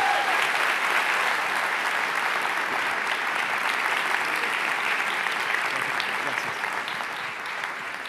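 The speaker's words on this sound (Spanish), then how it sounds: "si pueden recibir con un caluroso y fuerte aplauso a Agustín Laje esta mañana en Presencia Viva" A live audience gives a warm, sustained round of applause to welcome a guest speaker at a morning event, a dense, loud clapping that continues evenly and eases slightly near the end.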